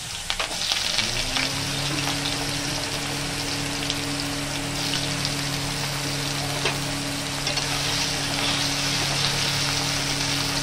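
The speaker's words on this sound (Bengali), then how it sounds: "এবার আলুগুলো দিলাম। আলুগুলো একটু ভেজে নেব আগে।" Potatoes frying in a pan with torn dried red chillies for a Bengali chola saag bhaja, a steady close sizzle and crackle that holds evenly throughout with a low tonal hum underneath.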